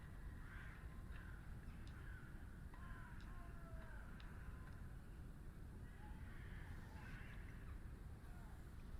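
Crows cawing outdoors, several faint, distant caws and calls scattered over a steady, loud background hiss of wind or noise.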